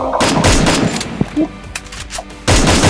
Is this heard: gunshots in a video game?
yes